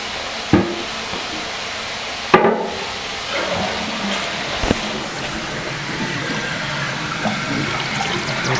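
A household toilet being checked during a home inspection flushes with a sustained rush of water, punctuated by a few sharp knocks and clunks from handling the fixture, fairly close by.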